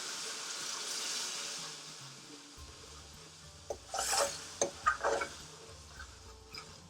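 A spoon scrapes and prods onion base gravy in a pan for garlic chilli chicken, a soft rubbing wash broken by a few sharper knocks and scrapes, with a faint tonal hum behind.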